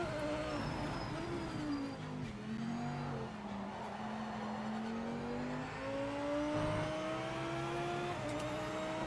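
Race car engine in the video game Project Motor Racing, a steady sustained drone with a rising and falling pitch as the car runs at speed, loud and continuous with no talking.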